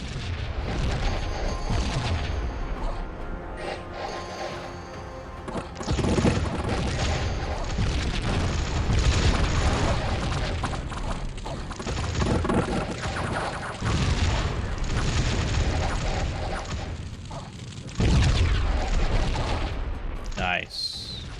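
Howitzer artillery pounding a battle in the strategy game Dominions 6, with booming blasts and gunfire-like volleys churning continuously and loudly for the whole stretch, swelling at intervals.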